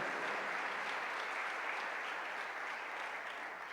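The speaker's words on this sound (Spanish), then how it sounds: "Damos fuerte esa ofrenda de palmas a nuestro Dios" A church congregation claps steadily, a dense, even applause that holds at moderate loudness without voices over it.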